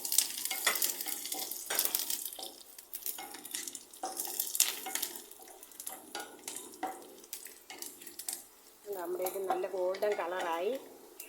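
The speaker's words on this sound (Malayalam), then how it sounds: "അതിനകത്തോട്ട് നമ്മൾ കരിയാപ്പില ആഡ് ചെയ്തിടുവാണ്" Curry leaves sizzling in hot oil with dried red chili, onion and grated coconut for an iron tamarind curry, with stirring scrapes and clinks of a utensil against the pan and a voice talking in bursts over the frying.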